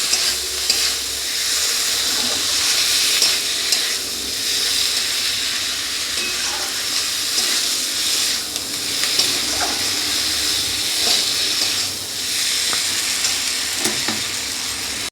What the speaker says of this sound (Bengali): এটাকেও ভালো করে মিশিয়ে নেব, একটু নাড়ানাড়ি করে নেব